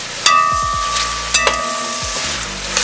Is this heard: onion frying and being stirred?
yes